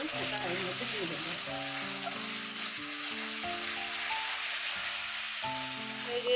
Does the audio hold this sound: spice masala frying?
yes